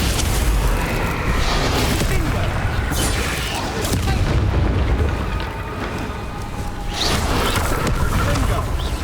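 Bombarda and Confringo spell explosions in Hogwarts Legacy on Switch boom heavily and repeatedly over sustained battle noise, with a voice shouting over the blasts.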